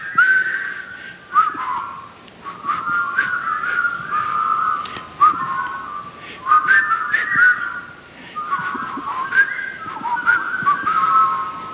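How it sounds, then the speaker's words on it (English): A group whistles the tune from Bridge on the River Kwai in unison, repeated melodic phrases with brief pauses between them, fairly close and clear. "one of the songs they would have whistled was this tune from the bridge over River Kwai"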